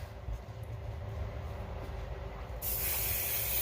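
A faint hissing spray from an aerosol can of adhesive bursts out loudly near the end, following a low background rumble.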